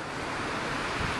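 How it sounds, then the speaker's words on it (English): Wind blowing across the beach at Ocean City: a steady, close, full-bodied rush with a faint surf-like roar underneath, continuous for the whole moment with no voices. "It's windy."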